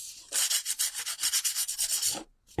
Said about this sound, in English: This is my paper crafting emery board. Just rub it a bit. And it takes off the edges.